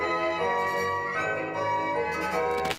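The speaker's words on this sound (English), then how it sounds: "ring this small notification bell" A small notification bell rings with bright, sustained metallic tones, a clear chiming sound that holds steadily for a few seconds before cutting off abruptly.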